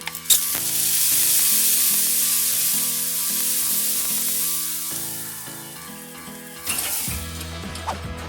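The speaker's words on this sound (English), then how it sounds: "I am going to spritz again." A spray bottle spritzes ribs cooking on a drum smoker, giving a long hissing spray that fades, then a second sharp burst near the end, over faint sizzling and background music.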